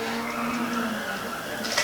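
A car oversteers and skids in a PS1 racing game played with a Negcon controller, giving a brief, continuous tire screech over the engine hum.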